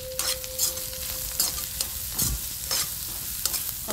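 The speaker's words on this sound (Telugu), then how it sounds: "కొబ్బరి కొంచెం వేగాలంటే" Grated coconut fries in a pan for ivy gourd chutney, giving a close crackling sizzle broken by repeated sharp stirring scrapes and clinks of a spoon against the pan.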